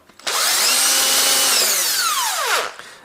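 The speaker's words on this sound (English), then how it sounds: "now I use my electric wheel driver, and there are those bolts what I need to open" Electric impact driver spinning a bolt out of an engine cylinder head, one close, loud whirring burst lasting a little over two seconds that rises in pitch and then winds down to a stop.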